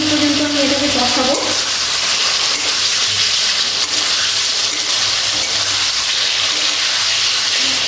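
Chicken sizzles steadily as it is sautéed and stirred in a pan for chicken do pyaza, a constant loud frying hiss with occasional scraping, a brief voice early on.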